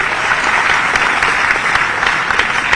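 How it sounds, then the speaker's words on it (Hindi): A large audience at a sports awards ceremony in Bhopal claps loudly and continuously, a dense, even wash of applause with no break or speech over it. "और एक बार तालियां जोरदार हो जाए।"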